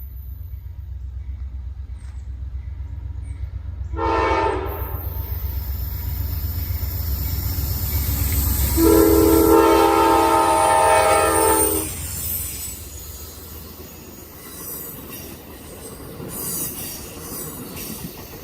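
Amtrak 30 passenger train on CSX's Cumberland Sub, a loud rumbling approach broken by two strong horn blasts, then wheels squealing and cars rolling past before the sound fades away.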